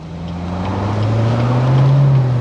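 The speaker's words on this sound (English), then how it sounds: "My foot's back on the gas pedal." A 2016 Corvette's engine revs up steadily, its pitch climbing as it accelerates, heard close from inside the car.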